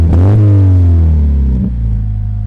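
Toyota 86 fitted with an MXP Comp RS exhaust revs loudly up close, a deep rumbling engine note rising in a quick blip, then settling into a steady throaty idle with a second short blip near the end.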